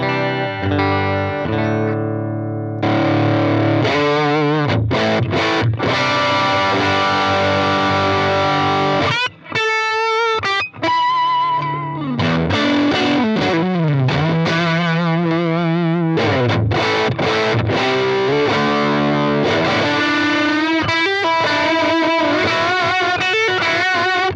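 An electric guitar through a JHS Paul Gilbert PG-14 pedal into a clean Fender-style amp plays loud, driven riffs and chugging chords with a gritty, overdriven tone, briefly pausing twice, with no talking.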